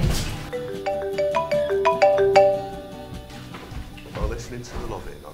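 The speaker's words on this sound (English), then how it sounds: "Phone's ringing." A melodic electronic ringtone plays a repeating tune of bright tones, fairly loud and close, fading after a few seconds.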